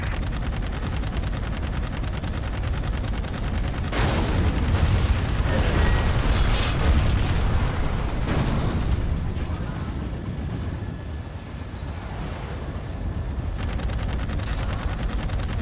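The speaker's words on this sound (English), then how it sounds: "Open fire." Gunfire in the sci-fi shooter Dark Void, a dense burst of rapid shots and blasts that swells in the middle and then settles into a steady noisy rumble of combat.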